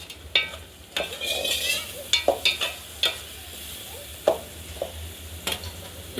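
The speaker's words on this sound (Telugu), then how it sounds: "కూర ఒకసారి తిప్పుకుందాం." Chicken curry stirred in a pan, scattered scraping and clanking strokes of a utensil against metal, irregular and fairly close, over a low simmering background.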